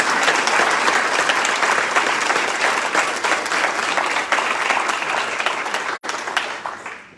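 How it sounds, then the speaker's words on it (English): A crowd at an awards night applauds committee heads, dense, loud, steady clapping throughout, with a brief dropout near the end before it tails off. "let's give them a round of applause for their efforts"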